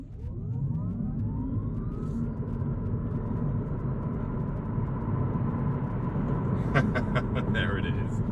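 Honda e electric car accelerating hard in sport mode, a rising electric motor whine climbing in pitch over steady road rumble, heard from inside the cabin, with a brief clatter near the end.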